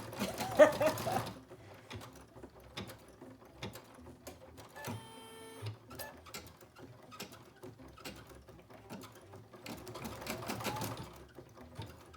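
An embroidery sewing machine stitches an in-the-hoop mini bag with a quiet, rapid mechanical patter, steady and close, with brief pauses and a short whirring change in the middle.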